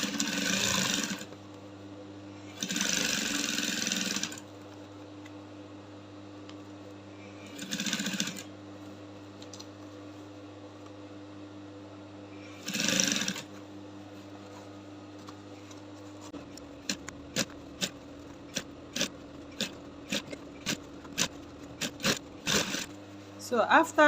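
A sewing machine stitches the stayed part of a structured sleeve seam in short bursts of steady whirring separated by pauses, followed by a run of quick, light ticks and clicks.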